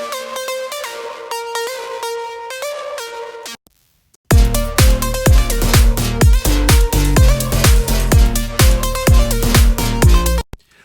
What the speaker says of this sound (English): So here is a preset in SERUM.